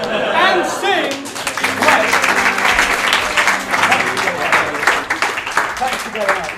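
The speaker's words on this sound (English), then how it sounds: "Give them another round of applause" Audience at a Music Box 200th show breaking into sustained applause, a dense wash of clapping with cheers that holds loud and steady for several seconds, with voices heard at the start.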